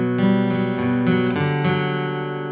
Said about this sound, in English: The intro, obviously played on an acoustic